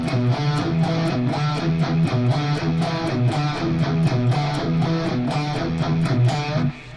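Electric guitar plays a rock lick without a talk box, a steady stream of quick, evenly picked distorted notes repeating in a tight rhythm, loud and close with no talking.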